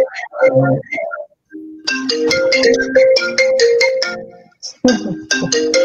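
A phone plays a melodic electronic ringtone, loud and close, with a rhythmic run of bright tones after a brief voice-like opening.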